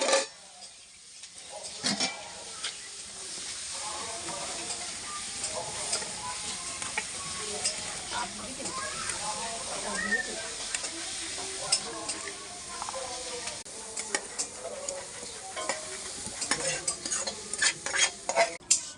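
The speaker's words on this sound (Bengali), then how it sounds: "এখানে তো মশলা কষা হচ্ছে।" Spiced vegetables for khichuri are stirred in a pot as they fry, giving a close, steady sizzle broken by repeated scraping and clinking strokes of the spoon against the metal.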